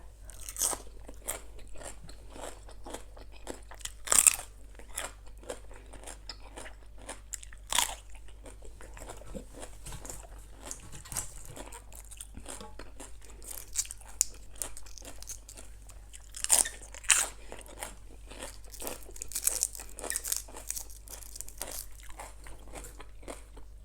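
Close-up eating of spicy Thai papaya salad with fermented fish sauce, a steady stream of crisp crunching bites and chewing throughout, loud and near, over a constant low hum, with no talking.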